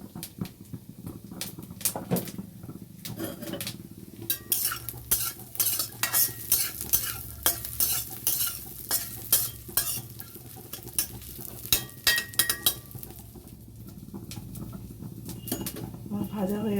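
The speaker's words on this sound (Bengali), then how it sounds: "আমার ভাজা হয়ে গেছে মশলাটা" Spices for a banana flower dish fry and sizzle in a pan under repeated sharp scraping stirs of a spatula, close and rhythmic, with faint birdsong in the background.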